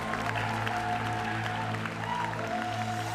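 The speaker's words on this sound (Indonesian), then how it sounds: "tolong tepuk tangan untuk 2 komik terbaik di Indonesia." Steady audience applause and crowd noise at a stand-up comedy grand final, continuous and fairly loud, with a sustained tonal hum running underneath.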